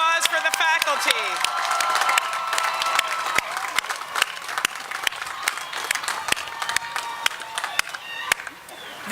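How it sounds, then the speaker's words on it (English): A crowd applauds at a graduate commencement ceremony, with dense, sustained clapping and a few cheers across the whole stretch, lively and fairly close. "A round of applause for the faculty."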